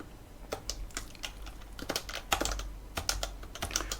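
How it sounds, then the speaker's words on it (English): Typing on a computer keyboard, with irregular clicky keystrokes in short bursts, close and fairly quiet, with no voices. "We type in a contents tag."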